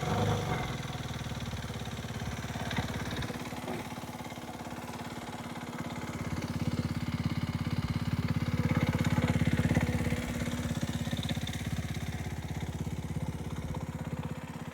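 A 2021 Aprilia Tuono 125 four-stroke motorcycle with a shifter runs nearby, holding a steady, buzzy engine note that swells slightly in the middle as it is revved gently, with no talking over it.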